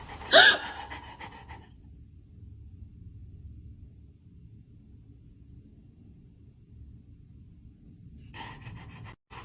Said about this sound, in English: Gasp at your dog and watch their reaction.